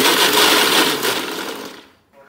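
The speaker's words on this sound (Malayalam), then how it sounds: "ഈ ചോറിനെ ഞാൻ മിക്സിയിൽ ചെറിയ ജാറിൽ എടുത്തിട്ടുണ്ട്. ഇനി ഇതിനെ അരച്ചെടുക്കുകയാണ് വേണ്ടത്." A kitchen mixer grinder whirs loudly with leftover cooked rice in its small jar, grinding it dry without water; a steady close buzzing grind that cuts off abruptly near the end.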